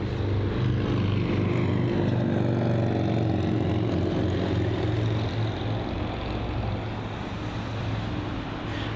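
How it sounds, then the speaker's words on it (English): A JetBlue Airbus A321neo on pushback at London Heathrow gives off a steady, loud engine whine and rumble, continuous and close, with no voices over it. "the JetBlue A321neo on its pushback"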